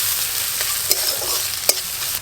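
Chopped garlic and ginger fry in hot oil for an aloo chop filling, giving a soft continuous sizzle with a couple of sharp stirring scrapes, close by and with no voices.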